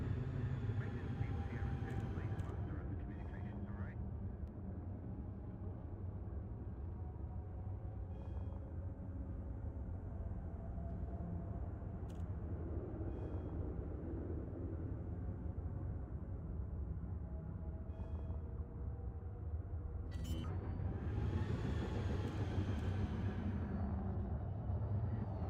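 A spaceship sets down on a landing pad in the video game Elite Dangerous, with a steady low engine rumble and hum throughout and a short hissing thruster burst near the end.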